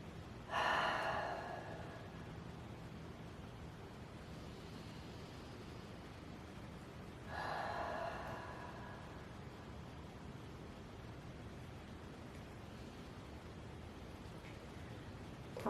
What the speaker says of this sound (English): Inhale through the nose. Open mouth, exhale.